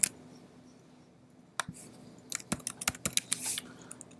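Typing on a computer keyboard, entering a field name into software: irregular clicks that start sparse and quicken into a busy patter of keystrokes, close and clear, with no talking.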